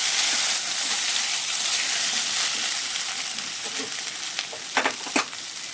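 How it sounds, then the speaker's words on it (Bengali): Bitter gourd, drumstick, ridge gourd and pointed gourd sizzle steadily in hot oil, the frying gradually easing, with a few sharp clatters of a spoon near the end. "সব সবজি একসাথে ভাজা করে নেবো"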